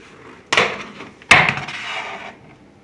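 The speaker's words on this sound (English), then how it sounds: "So let's pull the lid off here" A plastic lid pulled off a home worm bin: two scraping, knocking bursts about a second apart, the second louder and trailing into a brief rustle, close and alone.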